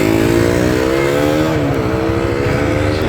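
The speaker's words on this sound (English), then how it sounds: "I'm going to start the engine." A Bajaj Dominar 400 motorcycle engine runs loud and close, a steady throbbing idle with a brief rise and dip in pitch midway.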